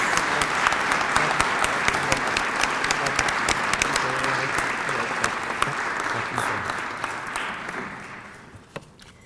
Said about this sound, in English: I would like to ask all of you to join me in a round of applause for Joe and Shirley